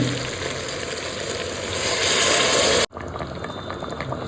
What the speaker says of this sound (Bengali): গরম জল দিয়ে দিয়েছি